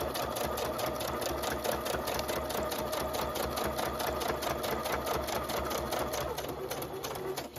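A sewing machine stitches steadily along a line through fabric for a scrappy sewn envelope, giving a continuous fast rattling hum close up with no talk over it.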